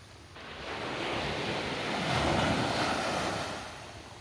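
Sea waves wash onto the beach at North Discovery Bay in Hong Kong, a steady rushing surf that swells to a peak and then recedes, with some wind noise.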